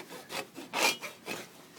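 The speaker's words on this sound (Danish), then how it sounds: "Sav det." A hand saw cuts back and forth through wood in roughly five rasping strokes with a steady rhythm, close and fairly loud, no talking.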